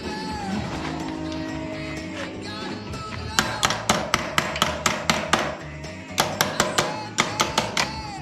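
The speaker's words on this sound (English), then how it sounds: "Snap-on hammer." Sharp, loud metallic strikes of a Snap-on hammer ring out in two quick rhythmic bursts of several blows each, during mini bike work, after a stretch of quieter background noise.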